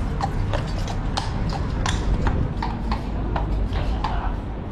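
Horses' hooves clip-clop on pavement during the changing of the guard at Horse Guards in London, a steady run of sharp hoof strikes over a loud outdoor crowd murmur.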